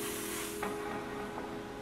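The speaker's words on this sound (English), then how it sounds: "Y'all are gonna hear some sizzling." Brief hissing sizzle of heat applied to a lace front wig during a wig install, a steady airy spray-like hiss with two faint crackling bursts, heard alone at low level.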